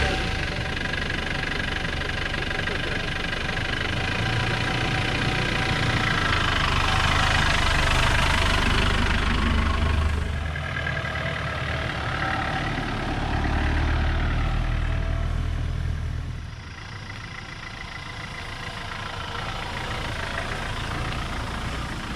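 The engine of a Land Rover Defender 110 rumbles continuously as the vehicle is driven, with its loudness rising and falling as it revs and shifts gears. Road and cabin noise run underneath the engine throughout.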